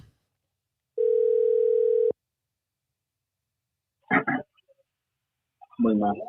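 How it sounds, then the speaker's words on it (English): A single steady electronic phone tone sounds for about a second, followed by silence and then a few short bursts of voice-like sound. "Let's see if he answers the phone."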